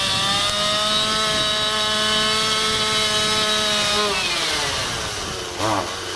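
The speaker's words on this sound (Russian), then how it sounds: "пилят сучки высоко." A chainsaw cuts high tree branches, running steadily at high revs, then the pitch drops as it slows near the end, loud and close throughout.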